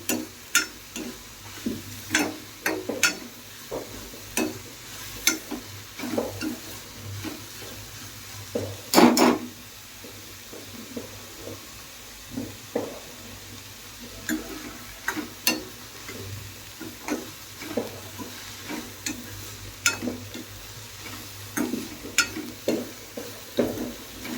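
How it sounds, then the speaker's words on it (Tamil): Onions being sautéed in a pan for kurma: a low, soft sizzle under repeated scraping and tapping of a spoon against the pan, a steady stop-start stirring rhythm close by with no talking. "வெங்காயத்து கூட போட்டு வதக்கிறேன் இந்த வெங்காயம் வந்துட்டு நல்லா வதங்கணும்"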